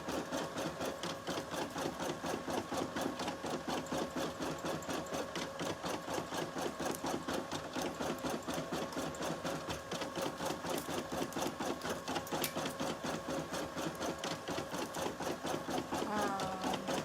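A sewing machine stitches a robe with a steady, fast mechanical chatter that runs unbroken and close throughout.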